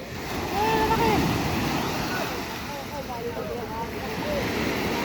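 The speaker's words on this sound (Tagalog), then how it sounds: "Malalaki nga alo, napaka muntik nang lumubog yung ano." Big sea waves surge and wash against a small outrigger boat, with a continuous roar of water and wind buffeting the microphone, while voices shout faintly over the noise.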